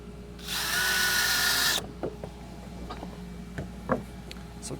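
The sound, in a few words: power drill driving screws into scrap wood goat stand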